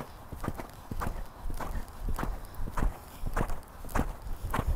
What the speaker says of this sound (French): Laisse avancer ton cheval.